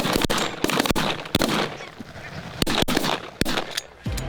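A flock of snow geese honks and calls continuously during a goose hunt in Saskatchewan, Canada, with several sharp shotgun blasts ringing out among the birds.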